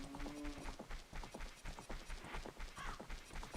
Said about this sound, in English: There she is. There's my horse.